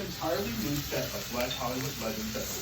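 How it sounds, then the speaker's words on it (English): Cubed potatoes sizzle gently in oil in a pan, a soft continuous crackle beneath someone talking steadily close by. "fry the potatoes in some oil, nicely cubed for 5 to 10 minutes"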